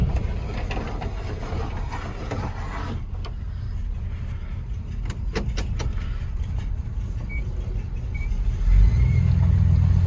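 A Chevrolet C10 pickup truck drives along with a steady engine and road rumble from inside the cab, a few clicks and rattles, and the engine rising toward the end.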